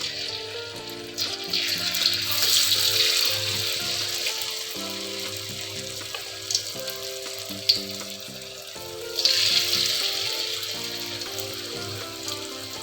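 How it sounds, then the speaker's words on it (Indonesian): Eggplant frying in hot oil, a continuous bubbling sizzle that swells and eases, with a couple of small clicks, heard close and steady. "Setelah cukup panas, kita mulai goreng satu persatu."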